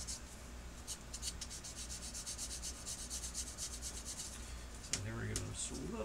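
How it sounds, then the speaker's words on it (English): Quiet, close, rhythmic scratchy strokes of small hand sanders working a model ACH-47 Chinook gunship kit at a workbench, a faint repetitive rubbing with a brief handling knock near the end. "So that's why another reason why I like the sanders."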